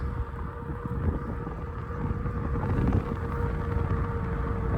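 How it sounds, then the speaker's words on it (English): Strong wind roars steadily across the microphone during a ride on a Hanevear H100 all-wheel-drive e-bike, a constant low rumbling buffet with a faint whine, loud and unbroken for the whole stretch. "Really windy today."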